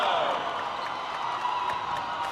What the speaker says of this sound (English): And an excited Wolverine crowd here on their feet.